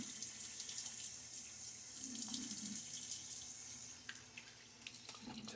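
A tap runs steadily into a sink while someone rinses their face after a shave, a close, constant watery hiss that breaks into splashing near the end, with no talking.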